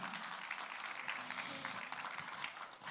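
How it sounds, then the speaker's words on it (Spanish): A church congregation applauds, a continuous, even wash of clapping that sounds fairly distant and subdued throughout. "dale un aplauso a la gloria del Señor"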